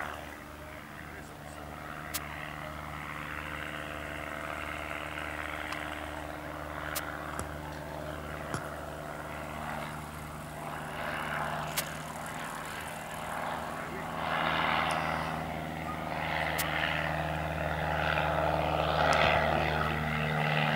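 A vintage propeller plane passes over a naval air base open day at Lann Bihoué, its engine a steady, droning hum with layered tones that swells slightly toward the end, while a voice talks over it.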